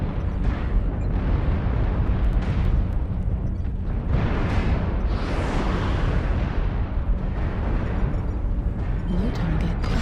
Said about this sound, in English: I just fired 60 missiles at the guy and missed every single one of them.